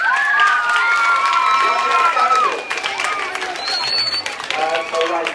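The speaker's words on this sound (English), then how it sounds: "So I wanted to give Shaun another round of applause" An audience of students at Shortwood gives a round of applause for the young Jamaican Shaun Brown, with clapping and cheering that is loud and steady throughout and mixed with crowd voices.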